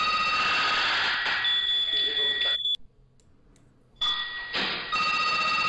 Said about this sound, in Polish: Ależ tam telefony dzwonią u nich telefoniczne